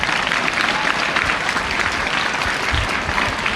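An audience claps steadily after a student's Independence Day speech at a school, a dense, sustained round of applause with no talking throughout.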